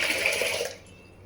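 Water poured onto washed lentils for Andhra-style gongura pappu, a steady splashing pour lasting most of a second before cutting off into quiet.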